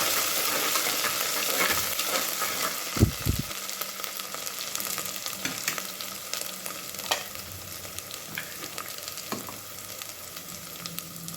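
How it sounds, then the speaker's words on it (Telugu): Ginger, green chili and pepper paste fry in a pan for pongal, making a steady close sizzle with spatula scrapes and a couple of low thumps early on. No one speaks. "అల్లం తెల్ల అల్లము పచ్చిమిర్చి మిరియాలు పేస్ట్ బాగా ఎర్రగా వేసుకోవాలి"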